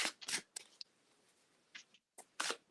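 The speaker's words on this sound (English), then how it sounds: "I'm still shuffling" Tarot cards being shuffled by hand in a quiet room, several brief papery riffles and slides in separate bursts with short pauses between, close and fairly soft.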